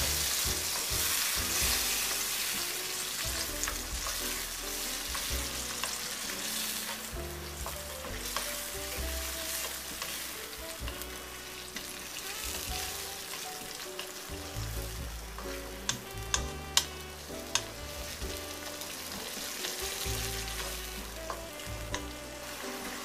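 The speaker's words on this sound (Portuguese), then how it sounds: "você precisa mexer para misturar aí o fígado em sua panela" Liver and sautéed onion frying in a pan, a steady close sizzle with occasional scrapes and clicks as it is stirred, no talking.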